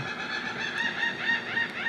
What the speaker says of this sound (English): I do apologize if you guys are hearing the seagulls.